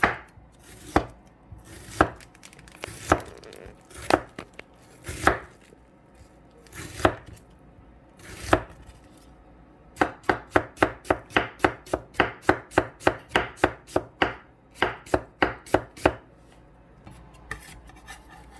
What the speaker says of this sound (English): slice it as thin as you can